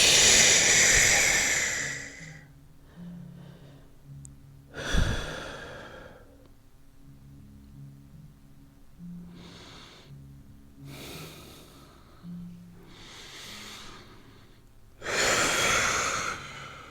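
Someone doing a hip mobility stretch takes slow, deep breaths: several loud, airy inhales and exhales spaced a few seconds apart over a quiet background.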